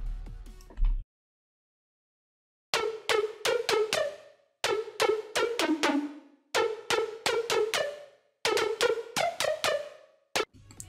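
Plucky synth lead melody: short, bright, percussive notes in rapid rhythmic phrases separated by brief gaps, loud and dry with no voice over it.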